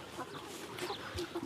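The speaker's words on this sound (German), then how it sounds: "Deshalb ist sie verpaart mit dem White Rock Huhn und heißt jetzt Karamell" A White Rock cross hen on a farm gives soft, faint clucks and low murmuring calls over a quiet background.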